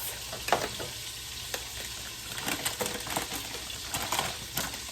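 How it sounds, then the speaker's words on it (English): Food sizzles and crackles steadily in a hot pan, with scattered pops and stirring scrapes, close and continuous without any talking. "you hear that sizzle? It's so beautiful."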